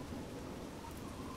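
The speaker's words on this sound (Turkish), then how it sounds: "yağmur yağıyor" Rain and thunder in the survival game Scum make a steady, dense hiss of rainfall with a low rumbling underneath, even and continuous throughout.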